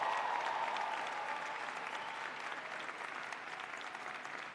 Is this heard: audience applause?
yes